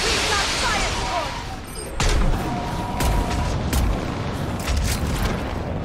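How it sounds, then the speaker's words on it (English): Fire support explosions in the Mass Effect battle for Thessia: a few heavy booming blasts about a second apart, rising over a constant roar of battle noise. "On that building, we've got fire support!"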